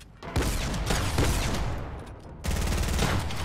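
A pump shotgun fires in the Fortnite video game, a loud close blast followed by a dense barrage of gunfire, then a second burst after a brief lull, with no talk.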